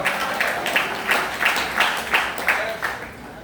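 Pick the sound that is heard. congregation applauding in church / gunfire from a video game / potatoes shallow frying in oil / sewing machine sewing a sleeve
congregation applauding in church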